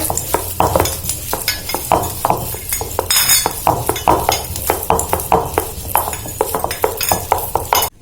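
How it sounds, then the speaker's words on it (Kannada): Peanuts, chillies and spices roasting in a pan while being stirred: loud, close scraping strokes repeat in a quick irregular rhythm over a dry sizzle, with occasional clinks of the utensil against the pan. "ಕಡಲೆ ಬೀಜ, ಮೆಣಸಿನ್ಕಾಯಿ, ಮಸಾಲೆ ಎಲ್ಲ ಹಾಕಿ ಇದನ್ನ ಸ್ವಲ್ಪ ಹುರ್ಕೊಳ್ಳೋಣ"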